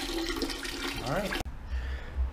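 Water runs and rinses through a scrubbed cooking pot with a steady splashing rush, under a voice, then cuts off abruptly, leaving low rumbling handling noise.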